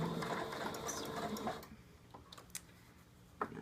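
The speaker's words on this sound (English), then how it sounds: "So we're just gonna sew it." A sewing machine runs fast and close while stitching a fabric mask seam, a dense steady whirr for about a second and a half before it stops, leaving a few faint ticks and clicks.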